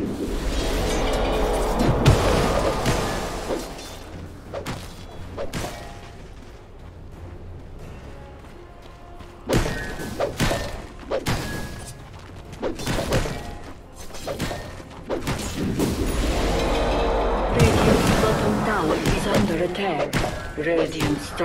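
Dota 2 tower under attack, with repeated heavy structure hits, thuds and slams in the middle of a busy match, partly under a speaking voice.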